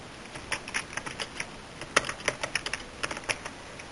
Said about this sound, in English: I will type something in here.